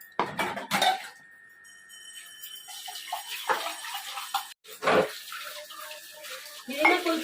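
Dishes, pots and utensils are washed by hand in a home kitchen, with clattering metal and scattered clinks over intermittent running water, nearby and moderately loud.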